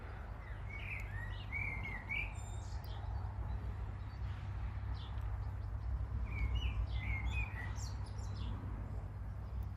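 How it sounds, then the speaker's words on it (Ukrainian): A small bird sings in a garden with blackberry bushes in bloom, bright chirping phrases in two bursts over a steady low background hum, moderately distant and fairly quiet, with no talking. "десь пташечка співає так"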